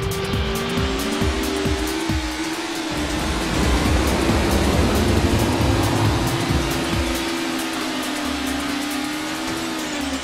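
A race car engine drones and revs steadily in Lego Drome Racers, with tire squeal and loud sustained engine whine throughout.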